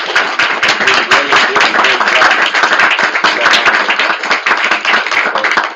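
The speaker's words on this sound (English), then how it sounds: "I just want to give Brenda and her committee a hand of applause" Dense, loud, close applause from a neighborhood association meeting audience, steady clapping throughout without a break.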